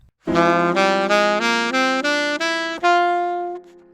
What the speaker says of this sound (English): The melodic minor scale, which sounds like this,